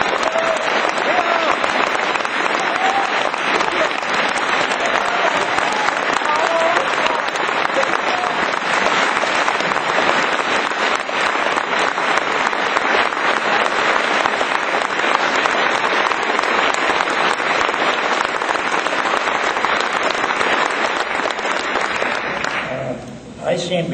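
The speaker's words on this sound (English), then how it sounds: "Seem to get more applause when I'm going after McCain." A crowd at a political speech gives long, sustained applause, loud and steady for over twenty seconds before it cuts off.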